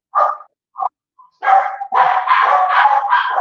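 Dogs barking indoors: a few short separate barks, then a burst of loud overlapping barking from more than one dog that keeps going close by.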